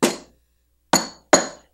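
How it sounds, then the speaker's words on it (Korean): A hammer strikes the frozen thigh of a large German Shepherd dog: three hard, ringing metallic knocks, one alone and then two in quick succession after a pause, each decaying quickly, with no talk. "이 망치 가지고 개 허벅지를 때려 보면"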